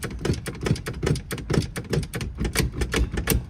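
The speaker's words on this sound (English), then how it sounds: "There's something rattling about in there." Something loose rattles inside the steering column of a 1964 Ford Country Squire, a rapid, fairly loud run of irregular clicking taps like typewriter keys, close by and unbroken by talk.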